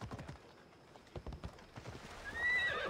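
A horse in the video game Assassin's Creed Odyssey clip-clops in a quick run of hoofbeats, then lets out a loud, shrill neigh near the end.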